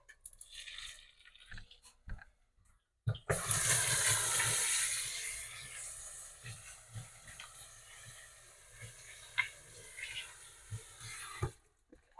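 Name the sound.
washing hands under running water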